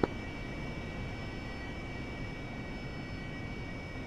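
Steady aircraft engine drone on a runway in the video game Arma 3, a continuous broadband hum with a faint high whine held at an even level, with no talking.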